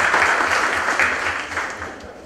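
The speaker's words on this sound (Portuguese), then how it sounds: "Uma salva de palmas." An audience at a scientific meeting claps in a brief, full round of applause that gradually fades over a couple of seconds, with a low hum underneath.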